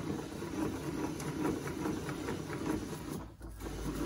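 A WEN tool mechanism being cranked by hand gives off a rapid, rhythmic mechanical whirring and ticking that runs continuously, with a brief dip near the end.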